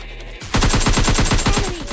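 Rapid automatic gunfire in the PUBG Lite battle royale game, a loud close burst of about a dozen evenly spaced shots fired in quick rhythm, heard alone without talk.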